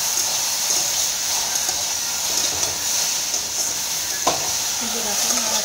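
Potatoes with turmeric and salt sizzle steadily in a frying pan while being gently stirred, with a constant hiss and a few soft scrapes and clinks, close and even.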